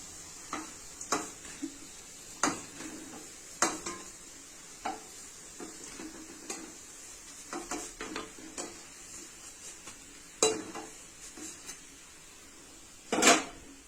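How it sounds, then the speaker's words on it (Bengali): Chhana koftas fry in oil under a steady low sizzle, punctuated by irregular clicks and clinks of a utensil against the pan, with one louder clatter near the end. "এবার এগুলো সবগুলো একসঙ্গে ভেজে তুলব।"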